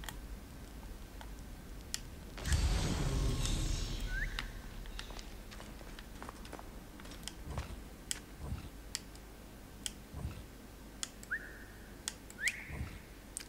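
A player's whistle in the game Assassin's Creed Origins, short rising chirps heard twice near the end and again at about 12.5 seconds, faint against a quiet ambient game backdrop with ticking clicks.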